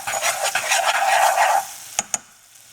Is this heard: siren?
no